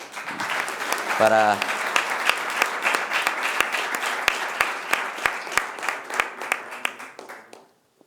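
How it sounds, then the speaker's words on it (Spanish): An audience at a Campus Yuste conference session gives a speaker warm, sustained applause. Many hands clap densely at first, with a brief voice speaking early on, then the clapping thins into scattered individual claps and fades out. "Yo creo que merece un aplauso"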